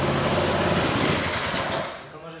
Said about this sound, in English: The go-kart's working again.